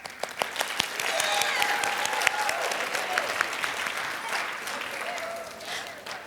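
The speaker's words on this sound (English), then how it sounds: "we can clap for them, that's fine" A middle school winter band concert audience claps for the low brass section, a full round of applause at moderate distance, with a few crisp individual claps and faint murmuring under it.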